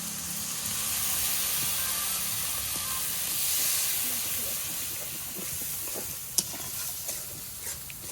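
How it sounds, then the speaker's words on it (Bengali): Ground spice masala with Kashmiri chilli powder and a splash of water sautéed in a pan, giving a steady hiss and soft sizzle with stirring scrapes throughout, plus a single sharp clink near the end. "গুঁড়ো মশলাটা যাতে পুড়ে না যায় তার জন্য একটু জল দিয়ে মশলাটা ভালো করে কষিয়ে নেব"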